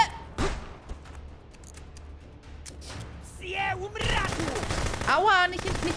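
Video game gunfire in Contraband Police, a few sharp shots early on and then a denser burst of shots near the end, with someone talking over it.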